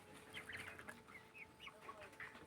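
Several chickens cluck and chatter nearby in a farmyard, short scattered calls rising and falling across the whole stretch over a low steady background hum.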